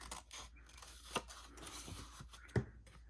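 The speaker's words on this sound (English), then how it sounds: "now we are going to cut up here in the corner" Scissors cut through album paper at a corner, giving two crisp snips over a quiet room background.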